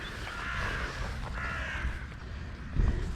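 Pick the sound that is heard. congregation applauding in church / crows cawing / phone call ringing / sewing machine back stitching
crows cawing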